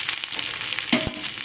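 Chopped ridge gourd goes into a pan of potatoes frying in oil, giving a steady close sizzle with a brief clatter and burst of louder hissing as the pieces land.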